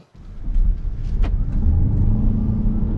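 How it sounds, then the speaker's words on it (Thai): A GWM plug-in hybrid SUV or pickup launches hard from a standstill toward 100 km/h on a test course, its engine and road rumble rising quickly and staying loud and close throughout. "เดี๋ยวเราจะลองศูนย์ถึงร้อยนะครับ"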